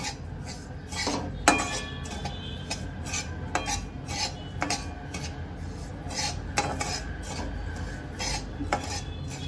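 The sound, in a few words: semolina being roasted and stirred in ghee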